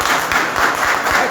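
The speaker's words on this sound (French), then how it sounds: "Applaudissez." Steady applause from an audience at a BEPC exam results announcement in Moroni, Comoros, dense clapping filling the room at an even level throughout with no voices over it.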